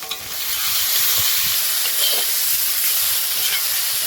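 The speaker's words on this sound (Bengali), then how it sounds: "আমি ঝিঙ্গে ফেটা ঢেলে দিলাম" Sliced ridge gourd hits hot oil in a pan for a Bengali curry, setting off a loud, steady frying sizzle with a hissing, bubbling texture that holds evenly throughout, with no talk.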